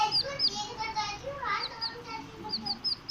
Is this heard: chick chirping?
yes